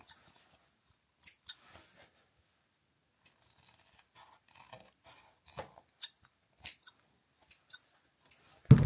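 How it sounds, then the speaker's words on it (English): Scissors trimming loose threads off a zipped fabric box pouch: sparse, crisp little snips and clicks scattered irregularly across several quiet seconds, close by, ending in a louder handling thump. "any little bits of thread we can trim off."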